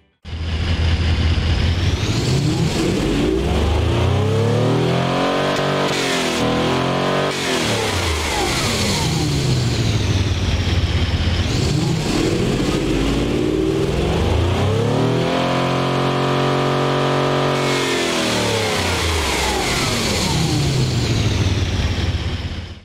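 A powerful V16 car engine in a video game revs hard, climbing and dropping in pitch through repeated surges below 6,000 RPM, loud and continuous with no talking.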